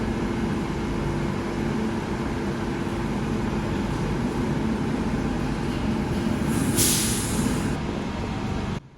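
Bukit Panjang LRT train at the station, a steady loud rumble and hum of the rail vehicle with a brief hiss of air near the end, no talking.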